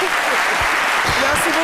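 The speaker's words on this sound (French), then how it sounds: "Donc, on peut applaudir pour ça quand même." A studio audience at a televised talk show about Ivorian theatre gives a short, dense burst of applause that fills the whole moment, with a voice faintly mixed underneath.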